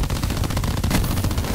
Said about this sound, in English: Now I'm gonna shoot you